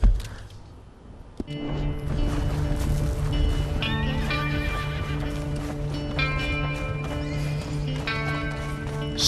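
In Red Dead Redemption 2, a horse whinnies loudly over rhythmic galloping hooves, with a steady musical drone underneath; the neighing repeats several times.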